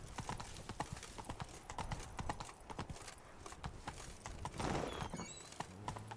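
Roach the horse galloping in the video game Witcher 3, a quick rhythmic run of hoofbeats with a brief snort or whinny, fairly close and clear.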